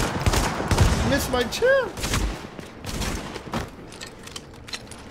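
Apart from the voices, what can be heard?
SASG 12-K shotgun firing in The Division video game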